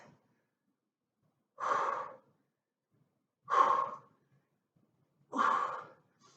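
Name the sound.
exerciser breathing out while lifting weights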